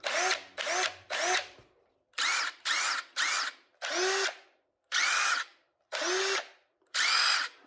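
An older DeWalt 20V Max cordless drill whirs in short repeated bursts, revving up and stopping about ten times in quick succession, close and fairly loud with a whining motor tone.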